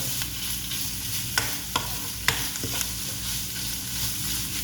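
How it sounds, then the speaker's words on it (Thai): Pork belly stir-fried with curry paste for a northern Thai curry sizzles steadily in the pan, and a few sharp scrapes of the spatula break through the frying. "ผัดกับพริกแกงให้หมู ให้หมูมัน หดตัวก่อน"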